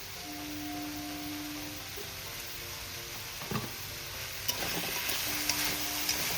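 Winter red radish ghonto is stirred in a frying pan, with a soft, low sizzle under a faint hum, then several light spoon scrapes and clinks against the pan.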